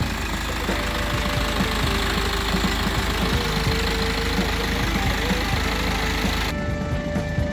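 A 2015 BMW 320d diesel engine idles steadily up close, a continuous low rumble with a faint ticking knock, with no talking over it.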